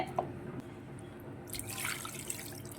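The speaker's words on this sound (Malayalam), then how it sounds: "ഒരര ഗ്ലാസ് വെള്ളം ഞാൻ ഒഴിച്ചു" Half a glass of water is poured into a meat mixture during home cooking, a faint, splashy trickle that swells midway, close and quiet.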